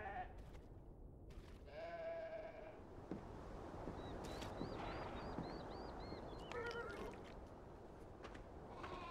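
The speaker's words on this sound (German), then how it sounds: "Die Schafe brauchen Wasser." Sheep bleat a few times on a Navajo ranch setting in the Beyond: Two Souls video game, short wavering calls over a quiet ambient background, with brief rustling and other game sounds between them.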